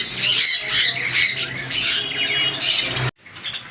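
Loud, harsh squawks from pet conures, including sun and pineapple conures, repeat in dense bursts for about three seconds, then cut off abruptly before a few fainter squawks follow.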